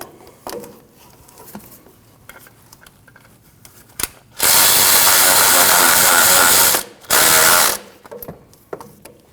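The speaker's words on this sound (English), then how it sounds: "Now you can tighten your bottom alternator bolt." A power tool tightens the bottom alternator bolt on a 2012-2021 Nissan NV2500 with a 5.6L V8, two loud close bursts of whirring ratchet rattle, a long one and then a short one, amid quieter clinks.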